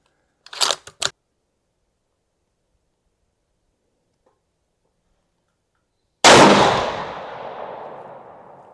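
A single loud Ruger Gen 2 rifle shot in 7PRC, fired with Hornady ELD ammunition at a range, bursts out sharply and decays over about two seconds, preceded by a couple of faint clicks.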